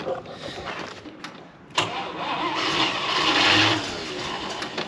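A carbureted car engine cranks and catches during a chassis swap, a sharp start-up burst followed by a rising, rough running roar that swells and eases, heard alone without talk.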